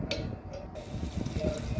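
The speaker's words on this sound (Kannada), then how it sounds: "ಸ್ವಲ್ಪ ಸ್ವಲ್ಪ ನೀರು ಹಾಕ್ಕೊಳ್ಳೋಣ" Water poured from a glass into a pressure cooker holding drumsticks, onion, dal and tomatoes for Kannada-style dal saaru, a soft continuous splashing and trickling close by, with no speech.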